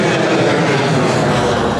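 Airplane passing overhead during an outdoor skateboarding session, a loud, steady broadband engine roar that fills the whole moment with no talk over it.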